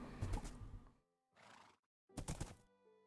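A horse in the Minecraft video game whinnies loudly in a few close bursts separated by brief silences, with no speech over it.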